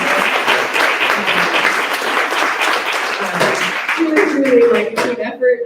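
A crowd at a small business mini-summit in Baltimore breaks into steady, dense applause that fills the room, with voices and cheers rising near the end as it tapers off.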